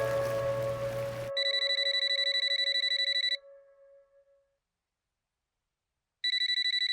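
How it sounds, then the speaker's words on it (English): A telephone rings with a rapid electronic trill that sounds for about two seconds, stops into silence, then starts again. A brief low tone comes just before the first ring. "The phone rings."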